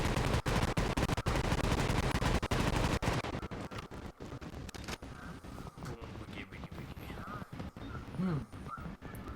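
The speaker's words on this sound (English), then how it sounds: "can I have you fire off a bunch of rounds?" Rapid automatic gunfire from rounds fired in The Division rattles loudly for about three seconds. Scattered single shots and game noise follow, and a voice talks over it.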